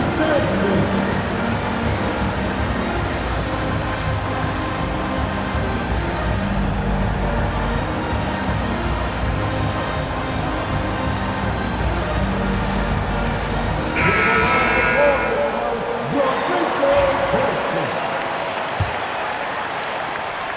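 Simulated arena crowd in NBA 2K25 basketball applauds for Memphis, a continuous wash of clapping and cheering with a voice talking over it and a brief swell near the end.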